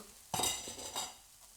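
Mushrooms drop into a pan for a chicken curry with vegetables, giving a sudden close sizzle and clatter, then a brief stir and a softer second scrape as the frying settles.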